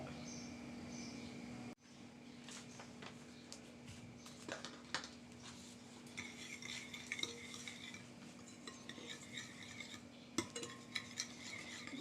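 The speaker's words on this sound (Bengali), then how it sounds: "ভালো করে চিনি আর ডিম ফেটিয়ে নিচ্ছি" Sugar and eggs are beaten together by hand, giving soft, quick, repetitive scraping and tapping strokes in a bowl. The strokes continue quietly and evenly with no one speaking.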